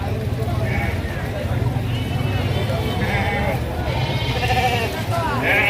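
Sheep bleat repeatedly at a busy livestock market in Gangadhara, Telangana, several near and far calls rising over constant crowd chatter and background bustle, with people talking throughout.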